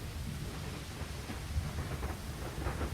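Steady rain pours with low rolling thunder at a tiny, deserted train station in the video game Lost Horizon, a continuous wash of rainfall with deep rumbles underneath and no voices.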